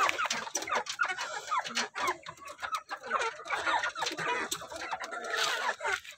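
A rooster clucks repeatedly in a backyard flock of mixed-breed chickens, with short, close calls coming in irregular bursts and a few softer bird sounds around them.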